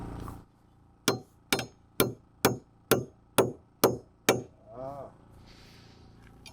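A hammer strikes a roof truss on a 40x72 gambrel post-frame building: eight sharp, evenly spaced blows ringing out close, followed by a short rougher sound and quiet background.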